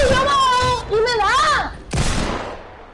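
A sharp broadband hunting rifle gunshot in Fortnite bursts out after excited shouting, its tail decaying over the next second.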